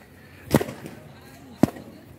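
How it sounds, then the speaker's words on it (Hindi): Two sharp balloon pops at a party in a resort, left over after the meal and burst one by one by children, each a loud close bang with a short gap between. "बलून धमाधम फोड़ने में लग रहे हैं ये"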